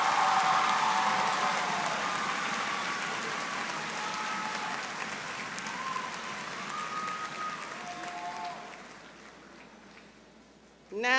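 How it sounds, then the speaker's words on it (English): Sustained audience applause at a high school graduation ceremony, dense and steady for most of the stretch before slowly thinning out, with a few scattered cheers and a faint voice near the end. "Let us give a big round of applause to Jennifer and her family"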